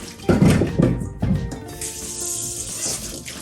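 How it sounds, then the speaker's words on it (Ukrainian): A kitchen tap runs, filling with cold water while borscht is being made. A few splashy bursts come first, then a steadier hissing stream follows. "Набираємо холодну водичку."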